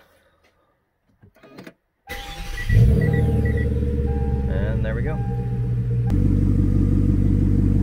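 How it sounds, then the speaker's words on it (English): A V8 Genesis sedan, fresh from a starter replacement, cranks briefly and fires up to a loud, deep exhaust rumble that settles into a steady idle and swells again near the end, with a short spoken remark over it. "Gotta love the sound of that exhaust."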